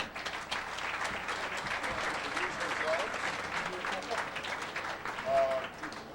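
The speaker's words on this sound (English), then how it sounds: "give them a warm round of applause" At an outdoor Highland festival in Alma, Michigan, a crowd gives a band a steady round of applause, a dense continuous patter of many hands at moderate distance, with a few voices faintly mixed in.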